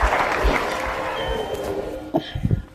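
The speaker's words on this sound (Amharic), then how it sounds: "አሁን ማጨብጨብ ይቻላል።" Applause rises through a crowd at a family gathering where a father is being introduced, broadband clapping sustained for a couple of seconds and then thinning into scattered louder claps near the end.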